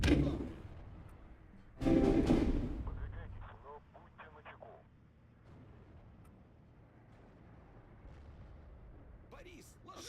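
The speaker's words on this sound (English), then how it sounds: "Противотанковое орудие заряжено и готово." An anti-tank gun fires in the video game Steel Division 2, making heavy booming blasts with rolling echoes. Game voices and radio chatter sound between and after the shots.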